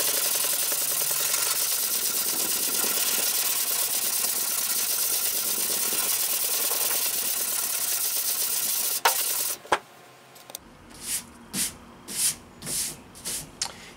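A 120-grit sanding block rubbed back and forth over body filler on an AE86 panel, a steady close abrasive hiss for most of the span, followed by a clack and then six or seven separate rhythmic rasping strokes.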